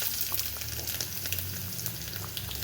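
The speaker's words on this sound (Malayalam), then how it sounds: "നമുക്കിനി ഇതിലേക്ക് നമ്മുടെ ഉള്ളി ഇട്ട് കൊടുക്കാം." Onions hiss and crackle in oil for a Kerala-style fish curry, a steady moderate sizzle with faint stirring, no voices.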